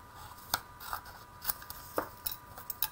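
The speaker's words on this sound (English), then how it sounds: "I'm going to just kind of cut it apart a little bit so that I can easily get into my images." Scissors snip through an extra piece of paper in a papercraft project, giving a series of sharp, quiet cuts at irregular intervals, close up and with no talk.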